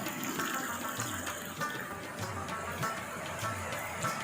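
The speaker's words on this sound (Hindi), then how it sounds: "खूबसूरत पानियों के नाले, ये चश्मों का पानी आ रहा है, इंतहाई शफाफ, इंतहाई खूबसूरत, इंतहाई ठंडा।" Clear, cold spring water flows steadily down a stream in Kumrat Valley, a continuous close rushing and gurgling with no voices.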